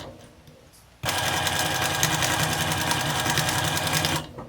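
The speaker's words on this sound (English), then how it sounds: "line everything up and just sew your 1/4 of an inch" A sewing machine runs steadily at a quick, even pace for about three seconds, stitching a quarter-inch seam through quilting fabric for a scrappy mug rug, then stops.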